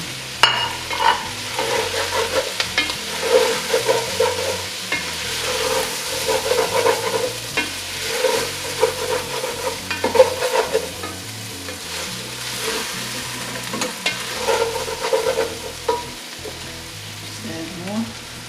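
Garlic sizzles and crackles steadily in hot oil while being stirred for a pork soft bone stir fry, a continuous loud frying hiss with scraping stir sounds and no talking.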